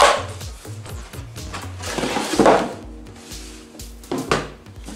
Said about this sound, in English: So let's open it up and see what comes inside.